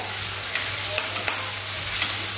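Spices sizzling and frying in a pan while being stirred for a drumstick and potato vegetable dish, a continuous close hiss broken by a few sharp scrapes of the spoon against the pan.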